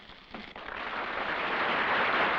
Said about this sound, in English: That's the sound of a steak sizzling.